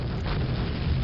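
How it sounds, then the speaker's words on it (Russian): Computers exploding in the video game Soldier of Fortune, a dense low rumbling blast that stays loud and unbroken through the short moment. "Видите, взрываются компьютеры"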